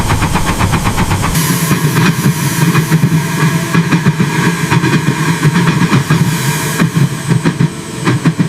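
A Thomas the Tank Engine toy steam train, restored from forest ruins, rolls along loudly and continuously, with chugging rhythmic pulses and bursts of hiss throughout.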